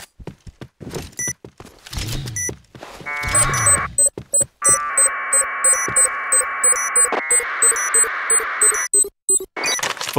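Planted bomb beeping in the Point Blank shooter: rapid, regular electronic beeps repeating loudly throughout, over sustained buzzing tones, thuds and game effects.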